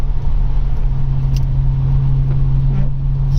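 Steady, loud car engine hum from inside a vehicle sitting in busy road traffic, with cars queued nearby and a low, constant rumble.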